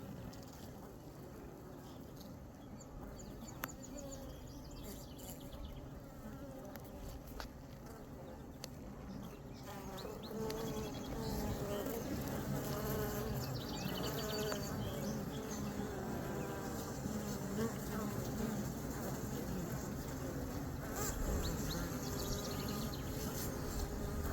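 Honey bees buzz in a dense, continuous drone during a hive inspection, growing louder and fuller partway through as the frames are worked, with occasional handling noises.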